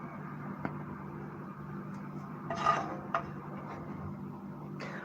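Metal skillet with stuck-on food being handled, soft scrapes and a few light clanks over a steady low hum, moderately close and without talk.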